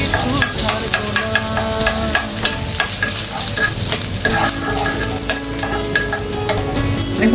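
Chopped onion frying in hot oil at the start of a katla fish malai, a steady sizzle with scattered stirring clicks, close and fairly loud, with melodic background music running underneath.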